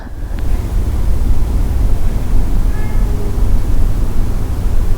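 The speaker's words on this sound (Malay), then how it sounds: "Pergilah dengar bunyi-bunyi ada pantai" Steady ocean surf washing onto a beach in a virtual environment, a continuous loud roar of waves with wind-like hiss, a few faint higher tones briefly above it, no talking.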